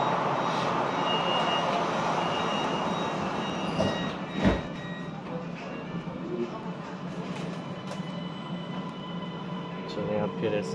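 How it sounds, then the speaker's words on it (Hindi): A passenger train ride in Kuala Lumpur, Malaysia, with a steady broadband rumble of the moving carriage, a sharp knock near the middle, and faint beeps and murmured voices in the background. "आज मैंने कहा चले मैं आपको ट्रेन का सफ़र कराऊँ"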